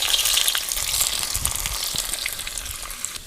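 Finely chopped ginger sizzles in hot oil in a home kitchen, a steady crackling hiss with a few louder pops and stirring scrapes, heard close up with no talking.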